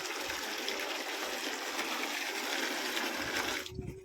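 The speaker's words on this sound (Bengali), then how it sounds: "ভালো করে জলটা মিশিয়ে দিচ্ছি" Water mixed with potassium permanganate is stirred for a pigeon bath, a continuous close sloshing and swirling of water that stops abruptly near the end.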